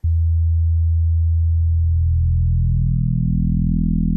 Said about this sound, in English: from just a low end sine wave to a nice FM sub bass